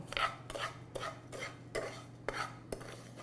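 A spoon scrapes and clinks around a pot of soba noodles in ginger broth in a regular rhythm of about six strokes, quiet and close, with no talking.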